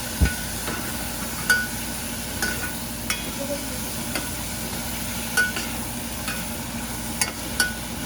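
Tomatoes are stirred into ginger garlic paste in a pan over a constant hiss, with scattered light clicks and scrapes of the spoon against the pan.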